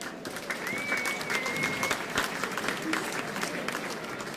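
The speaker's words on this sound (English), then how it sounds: "Big round of applause." A crowd applauds at a 50th anniversary celebration for a 1967 state league football team, dense sustained clapping from many hands filling the room, with a faint whistle and some voices in the mix.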